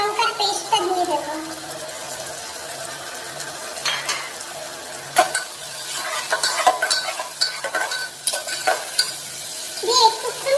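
Ginger, garlic and dry red chilli paste frying with lightly browned onions for a mutton dish, a close sizzle broken by scraping spatula strokes and a few clinks against the pan.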